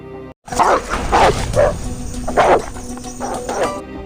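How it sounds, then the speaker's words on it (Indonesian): A chained dog barks in a film scene at an old, abandoned building, several loud, close barks in an irregular burst with no talk over them. "Tiba-tiba dia dikejutkan oleh seekor asu yang dicangcang di sana."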